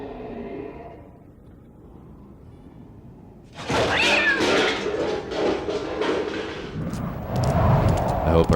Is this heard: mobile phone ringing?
no